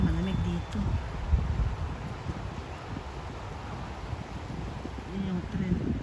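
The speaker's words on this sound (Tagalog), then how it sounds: "Lakas ng hangin, malamig dito." Strong cold wind buffets the microphone with a constant rumbling roar near a bridge in downtown Calgary, while a voice speaks briefly at the start and end.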